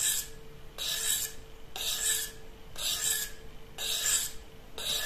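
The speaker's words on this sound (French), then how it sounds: "C'est ça l'avantage des pierres diamantées, c'est qu'on retrouve un tranchant très rapidement." A small knife blade is sharpened on DMT diamond sharpening stones with steady back-and-forth strokes, each a close, bright rasping scrape, repeating about once per second with brief pauses between.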